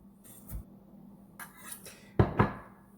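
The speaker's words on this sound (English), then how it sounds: "Get a little chopping there." A knife chops mushroom stumps on a cutting board, giving a few quiet, slow, separate knocks of the blade striking the wood, the last two closer and louder.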